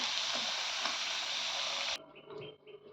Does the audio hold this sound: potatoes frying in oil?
yes